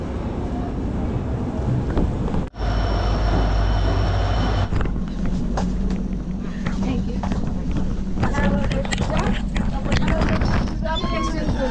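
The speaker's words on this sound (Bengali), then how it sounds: "আর ফাইনালি ট্রেন আসলো ওখানে" A late passenger train pulls into a railway station on the Rangapara to Kolkata route, a steady rumbling rail roar with wind buffeting the microphone, a brief dropout, then clattering and platform bustle as people talk nearby.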